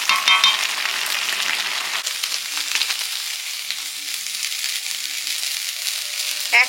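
Boiled taro stems tipped into a hot pan, sizzling loudly and steadily close up, the frying hiss easing slightly after the first couple of seconds and continuing alone.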